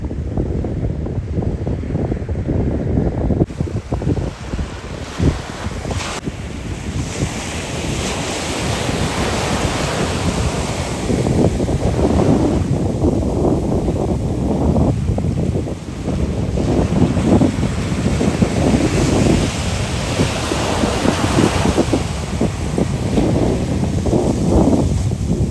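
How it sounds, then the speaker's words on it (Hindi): Canary Islands sea waves roll and crash continuously, loud and close, with steady surf wash and strong wind buffeting the microphone throughout. "खूबसूरत समंदर की लहरों की आवाज़ें"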